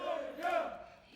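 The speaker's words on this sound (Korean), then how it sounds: "주민들은 이재명 대통령을 연호했습니다." Villagers in a small rural village in Andong cheer and chant a newly elected president's name in the early hours after his win, a crowd of voices rising and swelling in a short burst.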